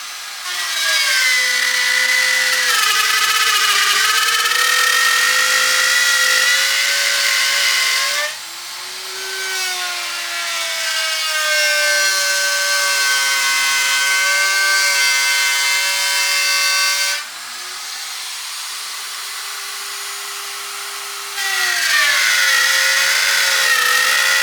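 A router fitted with a pattern bit cuts slots in wood for T-tracks in a workshop: a loud, continuous high-pitched whine with shifting pitch as the cut loads and eases, with brief drops in level, and no talking.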